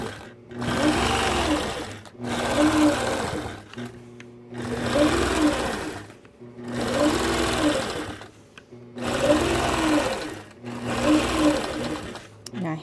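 A sewing machine machine-quilting a star-pattern baby quilt runs in six steady bursts of fast stitching, each about two seconds, separated by short pauses, loud and close.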